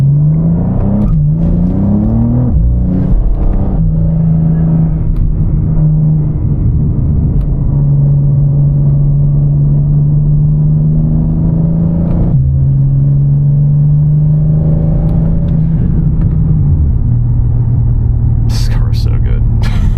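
A BMW G87 M2 drives under load, its engine droning and rising through steady revs with shifts, loud and close throughout while people talk over it.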